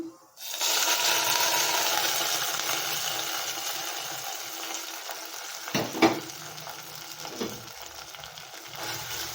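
Cashews hit hot ghee in a pan and sizzle loudly at close range, a bright continuous frying hiss that slowly fades, with a few sharp clinks and stirring sounds near the end.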